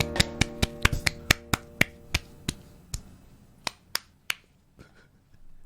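Sharp hand claps used as a cue, about a dozen crisp isolated hits close to the mic, quickly spaced at first and then slowing and thinning out, with no talking.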